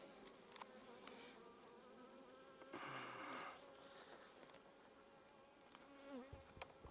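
A dense, continuous drone of honeybees from an opened, good-sized colony in a production apiary, close and steady for the whole stretch with a brief louder swell partway through and no voices.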